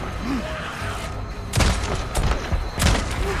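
Gunfire in the zombie-horde video game Days Gone: two heavy sharp sniper rifle shots about a second apart, each with a booming low tail, over a steady background din.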